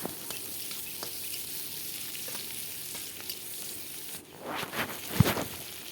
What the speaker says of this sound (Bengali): মশলাগুলোকে ভালো করে ভেজে নিতে হবে।